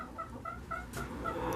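Chickens in a coop cluck in short, repeated bursts at close range, with one sharper squawk partway through and no talking.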